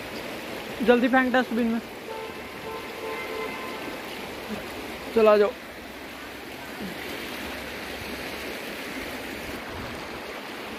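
A river rushes steadily beside a bridge at Sadhupul in Himachal, a constant broadband wash of water running throughout, with brief bursts of people talking over it near the start and middle.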